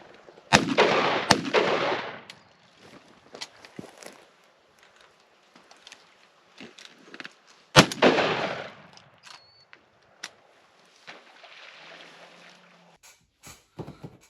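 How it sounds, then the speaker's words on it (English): Two loud shotgun blasts from a 28 gauge shooting 7/8 oz steel shot on a Texas duck hunt, the first two close together near the start and a third later, each with a short outdoor decay, followed by faint clicks and handling noise. "It's pretty wild to think about shooting a 28 gauge with 7/8 ounce steel."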